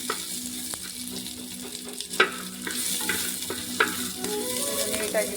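Onion frying in a pan gives a steady, close sizzle with scattered crackles, broken by a few sharp clinks and scrapes as it is stirred, with no voices.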